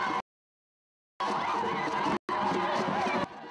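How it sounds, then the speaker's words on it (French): A crowd greeting the Prime Minister in Bouaké, Côte d'Ivoire, a lively mass of cheering and chattering voices in two short bursts broken by silent cuts. "Bain de foule à Bouaké ce samedi pour le Premier ministre."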